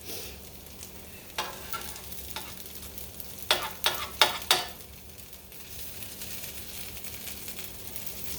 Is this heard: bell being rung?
no